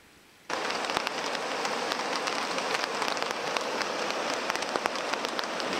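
Rain starts abruptly and drums steadily on a taut tarp overhead on a Mount Robson backpacking trip, a dense close pattering with sharper individual drops popping through.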